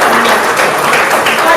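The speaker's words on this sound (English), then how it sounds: "Clap it up for Don." Brief applause for a guest at a cannabis town hall, a steady wash of clapping with some voices mixed in.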